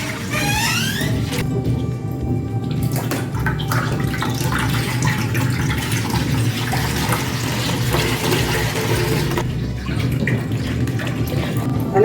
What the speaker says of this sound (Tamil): நம்ம பால் எல்லாமே உடச்சி ஊற்றியாச்சு.